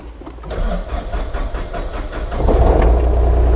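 A small engine cranks and catches, its low rumble swelling into a steady, close running drone after a few seconds of sputtering.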